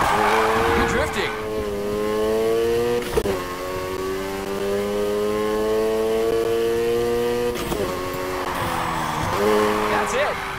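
A car drifting in the Need for Speed: Heat video game revs its engine loudly with sustained rising and falling pitch, broken by several sharp tire-squeal bursts, while a voice speaks over the game sound.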